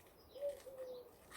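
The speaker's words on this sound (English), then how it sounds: "You hear the wood pigeon?" A wood pigeon cooing in a garden, a couple of soft, low, hooting coos at moderate distance over a quiet background.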